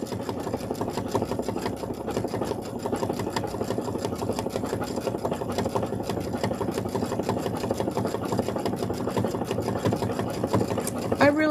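A Janome sewing machine stitching steadily, its rapid mechanical whir and needle clatter running continuously and fairly loud, with a short squeaky sound near the end.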